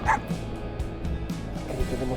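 A small pet dog named Tico yaps and whimpers on an open riverside bank, several sharp barks near and fairly loud, with faint human voices in the background.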